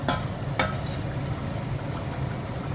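Mutton curry with ghee and garam masala bubbling and stirring in a pot over a gas flame, a steady close simmer with a few sharp clinks of a utensil.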